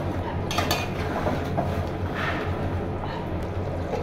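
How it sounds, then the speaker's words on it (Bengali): Duck curry being stirred in a pot during simmering, with steady clinks and scrapes of a utensil against cookware over a constant low background hum; no one speaks. "একটু নাড়াচাড়া দিয়ে দিই, তাহলে নিচে যদি নাড়াচাড়া না দিই তাহলে তো নিচে লেগে যাবে।"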